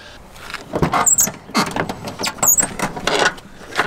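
A door check strap on a Citroën Saxo squeals in short, creaky bursts as the door swings, several irregular squeaks over a few seconds with bits of handling noise between them.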